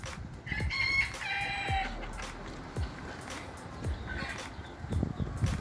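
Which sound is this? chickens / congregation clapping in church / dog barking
chickens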